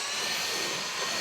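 An Amazon cordless vacuum cleaner with a roughly 3-foot pole and a brushless suction head runs steadily, giving a close, constant whine and rushing airflow with no break.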